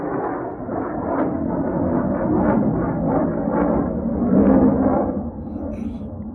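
A large aircraft takes off nearby with a loud, sustained, rumbling engine roar that swells and then begins to fade.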